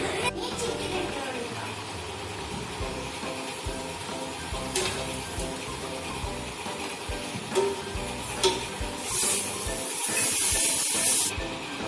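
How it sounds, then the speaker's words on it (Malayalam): Chicken fries in a pan with a continuous, close spitting sizzle and hiss, broken by occasional sharper crackles and pops, while a voice talks over it at times. "ചിക്കൻ ഒന്ന് ഫ്രൈ ചെയ്തെടുക്കാം."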